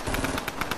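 Bursts of rapid automatic gunfire from another player in a Fortnite duos match crackle at a moderate distance, about six quick evenly spaced shots in under a second.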